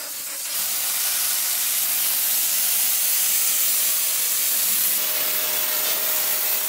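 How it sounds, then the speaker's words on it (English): A steam cleaner gives a loud, continuous hiss while power-steaming the grills inside a radiator, a steady close-up spray that stays unbroken for several seconds. "Make sure the inside grills are power steamed too,"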